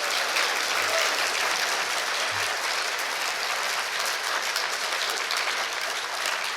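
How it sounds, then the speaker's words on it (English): A conference audience at a closing talk and award announcement gives sustained, even applause that holds a steady level for several seconds with no talk over it. "That was only tepid applause"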